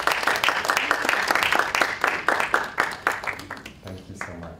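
Table groups at a teaching workshop clap in a quick round of applause, dense hand claps at first, then thinning into scattered claps as it fades out near the end.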